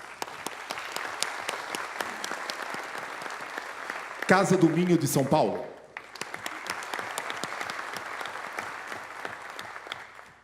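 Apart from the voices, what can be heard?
audience applause for folk dance groups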